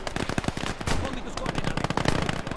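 MG42 machine gun firing in the Last Grenadier war game, long rapid bursts of loud, close automatic fire with dense overlapping shots and battlefield noise.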